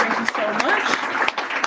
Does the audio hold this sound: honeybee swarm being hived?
no